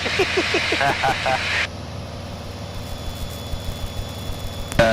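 Steady drone of a Piper Arrow's engine in flight, constant and moderately loud throughout, with people talking over it for the first part before the cabin settles into the engine hum alone.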